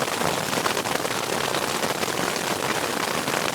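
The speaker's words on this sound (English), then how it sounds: "now it's turned into a regular thunderstorm, and our hail accumulation numbers have increased quite a bit" Steady rain mixed with hail pounds down during a thunderstorm on the Sierra trail to Big Pine Lakes, a dense, even hiss without letup and no voices.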